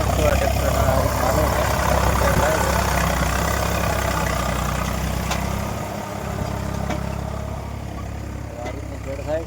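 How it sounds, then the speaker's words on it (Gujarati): A tractor ploughing a coconut farm after night rain, its heavy engine running with a steady low rumble close by as someone talks over it. "અહીંયા ટ્રેક્ટર હાલે છે"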